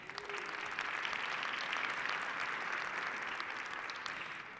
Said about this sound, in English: So once again, a round of applause for Tom and for Jay.